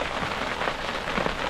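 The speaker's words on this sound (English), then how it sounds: "The storm moved in over us, and now it's hailing." Rain and hail pelt a campsite during a storm at Granite Springs, a steady dense patter of drops striking surfaces close by with no voices.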